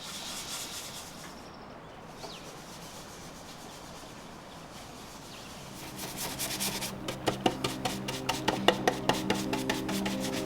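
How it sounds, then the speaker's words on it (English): A Scotch-Brite pad scrubs wax polish into the shellac finish of an antique painted dresser, a soft rasping rub at first, then brisk rhythmic back-and-forth strokes growing louder and closer. "Applying Fitty's wax polish with a Scotch-Brite pad and a wax brush will help cut down the glossy sheen of the shellac."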